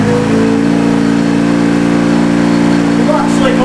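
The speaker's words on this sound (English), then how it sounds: "We've actually got the Mark 12 to start." A Mark 12 motorbike engine running steadily after starting, a loud continuous mechanical drone with a regular low pulse throughout, heard up close in a workshop with a voice briefly over it.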